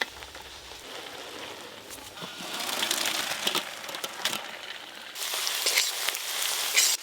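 Chopped onions fry in oil with whole bay leaf, cumin and dried chilli in a pan for Bengali mutton biryani. The crackling sizzle is dense and grows louder partway through, with no talk.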